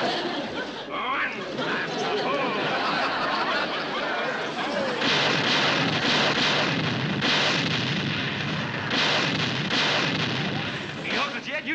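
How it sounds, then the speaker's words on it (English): Explosions blasting water into the air, a continuous rumbling roar of blasts with splashing bursts, loud and dense throughout, with people talking underneath. "Look at them explosions throw that water in the air."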